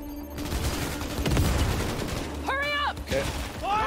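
Gunfire in the video game Cyberpunk 2077 rattles as a burst of rapid shots mixed with a rumbling game soundtrack, followed by shouted voices.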